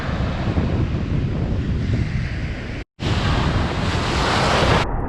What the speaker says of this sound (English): The currents here were strong, throwing the waves at the rocks.